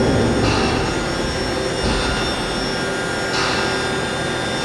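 A Haas VM3 CNC vertical machining center changes its tool and opens its door, giving a loud, steady mechanical whir with shifting metallic hisses and a few surges. No one talks.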